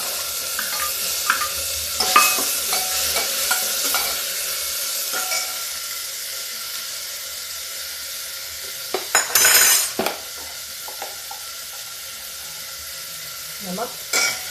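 Onion and tomato frying in a pan for a pea gravy: a soft, steady sizzle with intermittent spoon scrapes and clinks, plus a couple of louder bursts of hissing and clatter near the end, no speech.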